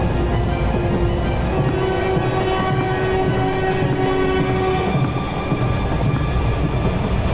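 A train rumbles loudly at a haunted station in a Hindi horror cartoon. Its horn holds a steady tone for several seconds over the constant roar of the carriages.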